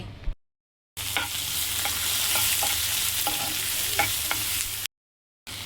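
Okra (bhindi) stirred in a hot pan for a home-style sabzi, with a steady frying sizzle and several sharp spatula scrapes and clinks against the pan. The sound is close and continuous, and it breaks off briefly at both ends.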